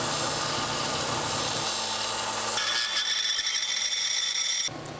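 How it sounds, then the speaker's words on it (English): A disc sander grinds against a small cube for a homemade lightsaber pommel in a steady, rough, continuous rasp, the pitch shifting as pressure changes, with no speech. "place it up against your disc sander. Sand down this area"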